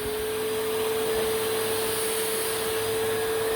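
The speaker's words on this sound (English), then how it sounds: "so far I'm very impressed with this vacuum. I'm going to turn it on." An Electrolux Well Q7 vacuum cleaner runs on a dirty carpet with a loud, constant motor whine and airflow rush, holding steady without pause.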